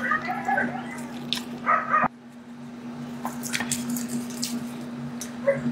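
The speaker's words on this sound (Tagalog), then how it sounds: "pasensya na sa mga aso guys na naririnig niyo yung mga asong ingay" Dogs bark and whimper in short bursts against a steady electrical hum, with a few sharp yelps and faint background chatter around them.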